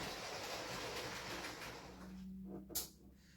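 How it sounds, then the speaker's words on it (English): Model railway trains rolling along the track of a layout and braking to a halt at the station, a soft steady rumble that fades out, ending with a short sharp click. "So I'm just going to stop the trains, and this time I'm going to stop at the station."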